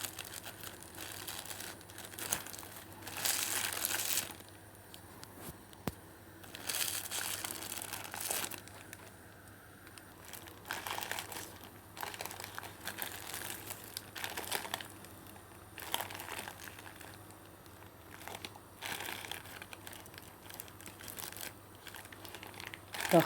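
Plastic nylon wrap around flexible flower-making dough crinkles and rustles repeatedly as the dough is turned over while heated, in irregular bursts of close crackling with quieter gaps, no talking.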